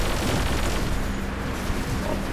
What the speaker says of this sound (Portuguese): Uns tiros de plasma.